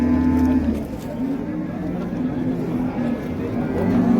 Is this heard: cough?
no